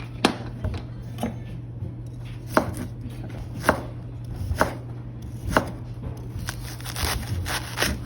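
Knife chopping onion and carrots on a board, about a dozen crisp, evenly spaced cuts over a low steady hum, with no talking.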